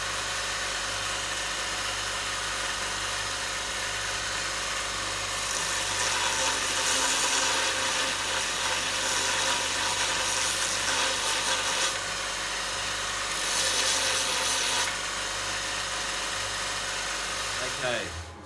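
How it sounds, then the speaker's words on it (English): A bench grinder works the edge of a forged hot cut hardy tool in a smithy, a continuous steady whine and hum with louder grinding contact passes in the middle, close by, ending abruptly. "Okay, so I put a rough grind into it."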